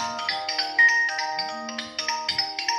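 A mobile phone ringtone plays a bright, repeating electronic melody in an artist's open studio in Cheltenham, ringing steadily and fairly close with no talk over it.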